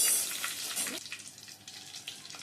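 Curry leaves and dried red chillies crackle and sizzle in hot oil for prawn thokku, a bright hiss with scattered pops that is loud at first, then settles into a steadier, softer spatter.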